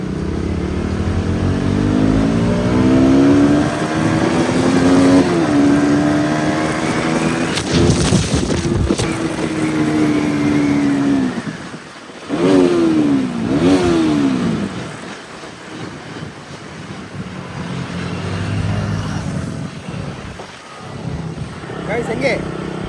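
A two-wheeler is ridden along with a continuous engine drone and rising and falling revs, heavy wind buffeting the microphone, as people talk loudly over the noise.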